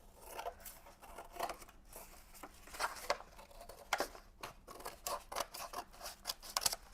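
Scissors snip through a page of a mixed media art journal in a quick run of close, crisp cuts, with light paper rustling and rubbing between the strokes.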